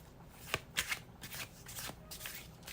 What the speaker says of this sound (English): let's now shuffle your last oracle deck